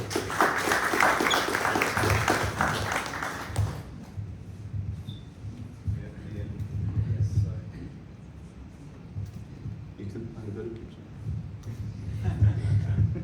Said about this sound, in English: Let's give him a round of applause and best of luck.